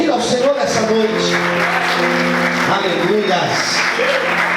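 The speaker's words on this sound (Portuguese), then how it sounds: "Você pode dar uma glória a Deus e aplaudir ao Senhor nessa noite." Church congregation clapping during an evening service, a steady spread of applause mixed with loud voices and sustained tones that sound like singing or shouting over it.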